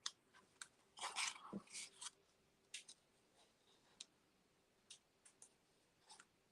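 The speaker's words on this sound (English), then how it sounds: "Now this is a bit long, so I'm just going to trim that off." Scissors trim the end of a piece of card, a few faint crisp snips and small clicks close by in a quiet room.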